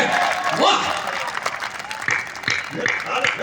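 An audience at a Hindi comedy poetry gathering breaks into applause, a dense wash of clapping that runs the whole time, with a voice talking over it.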